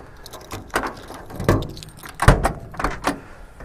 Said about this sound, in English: Just wanted to show you the door lock. Well, it does work.